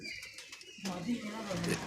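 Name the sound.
pigeon cooing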